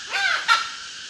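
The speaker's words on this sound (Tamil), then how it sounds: "காட்டு சேவல்" A wild jungle fowl rooster crows in a forest on a mountain trek, one short, hoarse, rising call followed by a brief second burst, clear and fairly near, with no voices over it.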